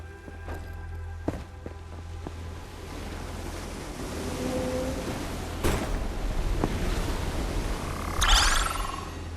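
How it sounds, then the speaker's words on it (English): Flowing water in the video game Otherskin, a steady rushing wash with wind-like noise throughout, a few soft footsteps early on, and a brighter splashy swell near the end. "How can the water flow upwards?"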